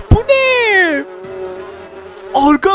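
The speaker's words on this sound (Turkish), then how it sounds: "şu an kovanımda bir sürü arı bulunmakta" Bees buzzing around a hive in the Minecraft video game: loud, wavering tonal drones that swoop and slide, with a fainter steady hum between them and a final short burst.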